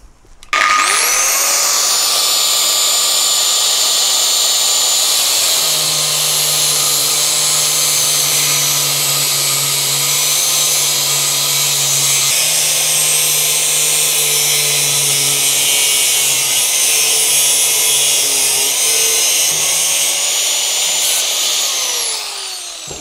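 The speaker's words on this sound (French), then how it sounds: "à l'aide d'une meuleuse d'angle et d'un disque à tronçonner, on va découper ces deux parties" An angle grinder fitted with a cutting disc slices through the parts of a Maillard 700 bicycle freewheel outdoors, a loud continuous high-pitched whine and grinding screech sustained almost without break, with no talking.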